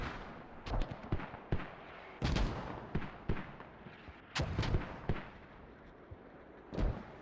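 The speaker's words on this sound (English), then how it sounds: "Mortar's really packing a punch" Mortar fire in the video game Squad: a series of sharp, booming impacts and blasts, some close and loud, others duller, arriving irregularly about every second with rumbling tails.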